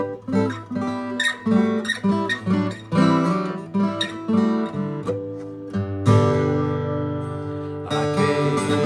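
A Recording King RO-342 Tonewood Elite acoustic guitar with Chinese strings is strummed and picked with bright, ringing chords and melodic runs, ending on a fuller sustained strum.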